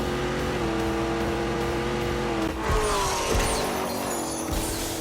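Engine of the car called the Exorcist launching in The Grand Tour video game, a steady loud drone with rising revs and a brief tire squeal midway, no talking.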